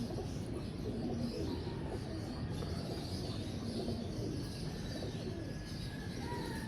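Pigeons kept by pigeon fanciers coo in a low, repeated, rolling rhythm, close and steady, under a continuous outdoor background with faint chirps from other birds.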